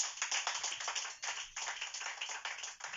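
A church congregation applauds for the Lord, steady crowd clapping that swells and dips in waves across the whole stretch, with no voices over it.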